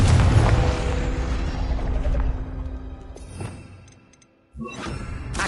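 The Confringo blasting spell in Hogwarts Legacy explodes with a loud shattering boom that rumbles and fades over a few seconds before another burst of magic crackles in, with no talking.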